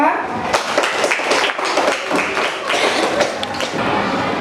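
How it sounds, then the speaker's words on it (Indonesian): Classroom of students clapping together in a fiqh lesson, a fairly loud, dense patter of hand claps with some taps and thuds, chatter and voices mixed in throughout. "Tepuk tangan untuk kita semua."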